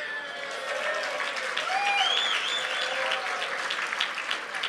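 Steady audience applause fills a hall at a 2019 community gala and hospital fundraiser, a dense, moderately distant wash of many hands with a few whistles or cheers rising above it throughout.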